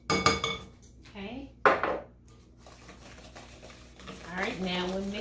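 Cookie dough ingredients with a flaxseed egg are worked together by hand in a bowl, with soft clinks and scraping of dishware and utensils, faint and close, while a person talks over it.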